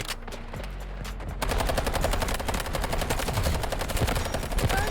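Sustained automatic gunfire in the Delta Force video game, rapid close bursts of shots in a dense rhythm, louder after the first second and a half and continuing without pause, with no talk.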